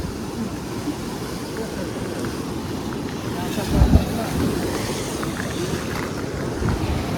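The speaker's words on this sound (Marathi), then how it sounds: "समुद्र मस्त खवळला आहे आता रात्रीचा. लाटा नुसत्या उसळत आहेत." Rough night sea surges against Karde Beach, with a continuous rumbling wash of waves, a heavier surge near the middle, and wind buffeting the microphone. No talk is heard.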